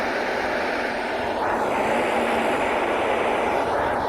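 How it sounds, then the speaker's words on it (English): Steady, even hiss of white noise fills the whole stretch, constant and unchanging with no other sounds. "This is the white noise."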